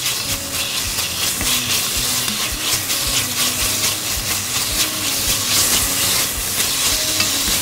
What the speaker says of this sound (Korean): 여기서 충분히 볶아서 고기를 어느 정도 익혀주세요.